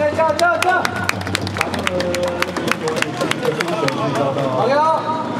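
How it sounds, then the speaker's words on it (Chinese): A crowd claps in rhythm at a professional baseball game at Chengcing Lake Baseball Stadium, Chinatrust versus Uni-President, sharp regular claps over busy crowd noise and voices, loud and close throughout. "掌声加油一下哦"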